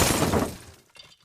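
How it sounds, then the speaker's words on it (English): A horse-drawn wagon smashes into a bridge with a loud crash and shattering break, fading into scattered debris clatter over about a second. "And he crashed into the bridge"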